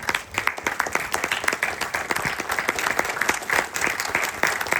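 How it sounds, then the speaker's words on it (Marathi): Applause for Manoj Naiksatam at the world premiere of a Marathi film, a steady, dense round of clapping from an audience filling the whole moment. "मनोज नाईक साहेबांसाठी टाळ्या वाजवूया."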